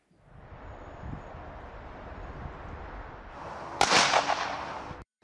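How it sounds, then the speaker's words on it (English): A single sharp rifle volley cracks out at a military funeral for four World War One soldiers in Belgium, one loud burst with a short ringing tail breaking a hushed outdoor ambience before it cuts off. "The rifles signalling honour and respect for 4 brothers in arms"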